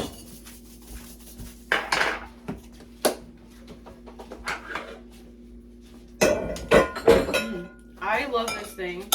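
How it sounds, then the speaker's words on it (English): A metal potato masher works squash and potatoes in a bowl, sounding as scattered clinks and knocks against the bowl, sparse at first and then bunched into a busier, louder run near the end. "I'm going to get the potato masher."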